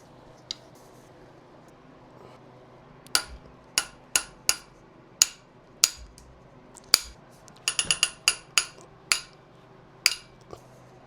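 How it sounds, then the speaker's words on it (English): A ratchet wrench turns N55 engine head bolts through a 90-degree torque angle, producing sharp metallic clicks in short bursts and a rapid flurry, close and clear over a quiet background. "Now we move on to doing 90 degrees for all the bolts."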